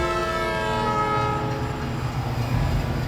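A train runs on a broadband railway line with its horn blaring steadily the whole time, loud and close, over a low rumble of the passing cars and no speech.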